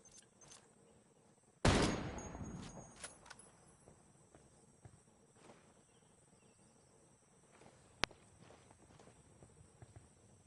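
Gunfire in the Ghost Recon Wildlands video game: one loud, close blast rings out and decays over about a second, followed later by a single sharp crack, with faint footsteps and insect-like chirring in a quiet outdoor ambience.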